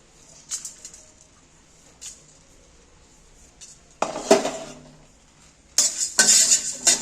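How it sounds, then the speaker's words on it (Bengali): Whole spices (cumin, coriander, cloves, cardamom and dried red chilli) are tipped into a kadai for chicken khichdi and stirred, giving scattered metallic clinks and two louder rattling, scraping bursts near the end, with no talk. "আমি গোটা মশলাগুলো কোড়ার মধ্যে ঢেলে দিচ্ছি"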